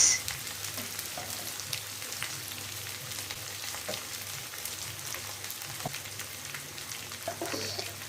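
Beef liver frying with spices such as turmeric, chilli, cumin, coriander and garam masala, giving a steady close sizzle with faint scraping as the pan is stirred.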